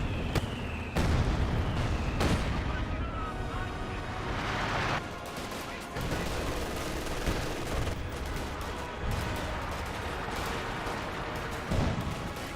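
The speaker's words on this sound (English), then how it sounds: "I think we got the heavy mortar barrage being brought in." Heavy mortar barrage in the video game Company of Heroes 2, a run of loud booming explosions and impacts with crackling gunfire between them, dense and continuous over the whole stretch, with faint commentary speech underneath.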